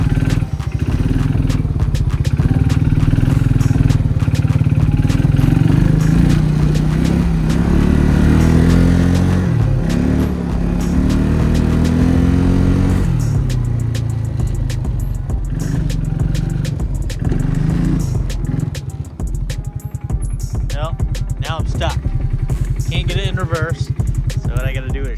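A Bombardier Quest 500 ATV stuck in gear runs close by with a loud, rough idle and surging engine rumble, then a clunk and a lighter, unsteady running tone, with a voice at times.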